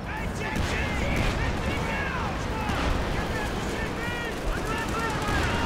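Artillery shells strike a machine gun position in the Company of Heroes 2 video game, with repeated booming blasts and crackling gunfire layered over continuous battlefield rumble, and a voice talking throughout.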